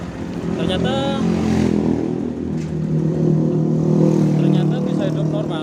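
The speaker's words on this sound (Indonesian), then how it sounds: "bisa hidup normal sebagaimana mestinya untuk motor ini" A Honda Revo Absolute motorcycle engine, previously cutting out while riding, idles steadily and close by, with someone talking over it.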